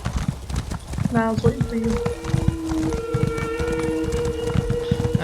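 A horse's hooves clip-clop in Elder Scrolls Online, a steady, close rhythm of game hoofbeats with a sustained tonal sound layered in, under people chatting.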